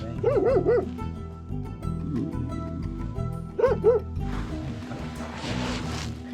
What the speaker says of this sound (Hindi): किस पे भौंक रहे हैं?